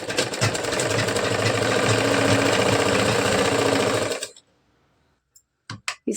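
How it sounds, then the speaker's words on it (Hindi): A sewing machine stitches blouse fabric half an inch in from the edge in one loud, continuous whirring run that stops abruptly, followed by near silence and a few small handling clicks. "तो इस तरह से आधा इंच पकड़ के सिलाई चलानी है।"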